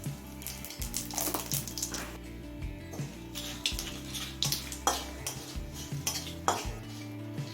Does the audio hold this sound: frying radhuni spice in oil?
yes